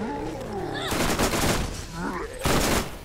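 Gunfire in Borderlands, a burst of broadband shots around the middle and another near the end, loud and close, with game voices and music tones threading between them.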